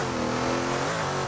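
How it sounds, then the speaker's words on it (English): A Holden LH Torana's engine holds a loud, steady high rev as the clutch is dropped, a dense, close mechanical roar with a slight pitch dip near the end and no voices. "Let's see if we can just drop the clutch and put the car a bit sideways here."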